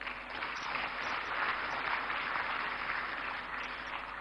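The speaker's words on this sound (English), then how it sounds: "You indeed deserve a great round of applause." A large audience at a national economic dialogue conference applauds steadily throughout, a dense, even wash of clapping with no talk over it.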